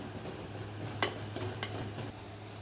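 Spices with chilli flakes and turmeric sizzling in oil for a drumstick curry, a steady frying hiss with a few clinks and scrapes of a spoon stirring the pan, close by and with no talking.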